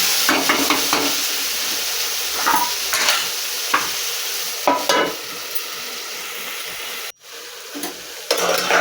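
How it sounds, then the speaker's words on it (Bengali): Okra stirred and fried on low heat in a pan brings a close, steady sizzle with bursts of scraping as it is turned, then a brief drop to near silence before the frying resumes. "এবার আমি এটাকে ভালো করে নেড়ে এটাকেও আমি লো করে ভাজবো ঢাকা দিয়ে"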